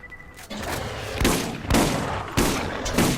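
Repeated gunfire from Borderlands Game of the Year Edition, several loud broadband shots at irregular intervals over a continuous background, with no speech.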